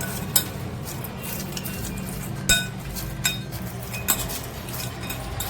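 A spoon mixes roti bhel in a bowl, the leftover roti tossed with spices, chutneys, pomegranate and lemon, giving soft continuous stirring with several sharp clinks of metal against the bowl.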